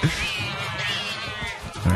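A cartoon cat meows in the South Park: The Stick of Truth video game, a short close cry that sits over steady game background sound across the clip.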